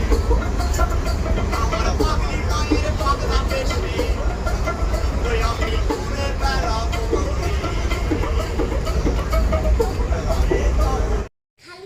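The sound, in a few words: inside a moving train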